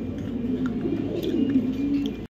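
Racing pigeons of a foreign bloodline coo in a continuous low throaty warble, close by, before an abrupt cut.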